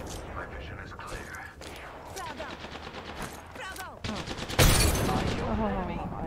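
Video game gunfire: bursts of rapid automatic shots and scattered single cracks, growing denser and louder near the end, with some talk in the background.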